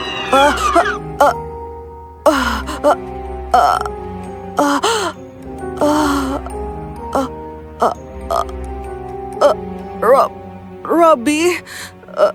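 Repeated harsh coughing fits and throat clearing, close and loud, mixed with strained vocal sounds and short breaths.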